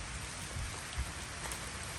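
Rain falling outdoors over a palm-waste pile where mushrooms grow, a steady, even hiss of drops with no talking.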